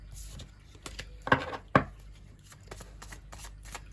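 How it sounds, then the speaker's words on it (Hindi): Tarot cards drawn from a Major Arcana deck make two crisp slaps and flicks close up, with faint shuffling rustles around them in a quiet room. "इससे भी हम कुछ कार्ड्स लेते हैं मेजर अरकाना डेक से"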